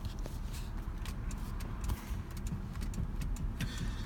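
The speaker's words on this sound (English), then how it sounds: "I guess you hear the clicking noise coming from the module" A faulty convertible top module in a 2006 BMW Z4 gives off quiet, repeated sharp clicks at an uneven pace, heard close up inside the car with no talking.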